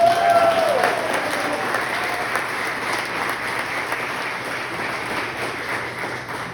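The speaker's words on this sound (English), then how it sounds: "good round of applause to our fearless leader from this event" Sustained applause from a crowd at a 95th birthday gathering, dense and even, holding steady for several seconds and close to the listener.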